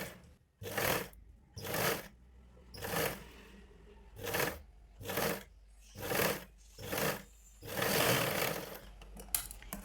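A sewing machine stitches a blouse seam in eight or nine short, even bursts with brief pauses between them, then one longer run at the end. The machine is close and clear, with no talking.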